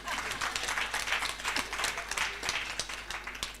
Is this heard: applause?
yes